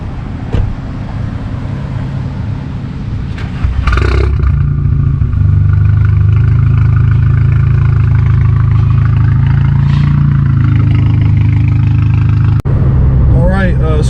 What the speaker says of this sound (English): Stratton, I appreciate you giving me a ride in your A3 today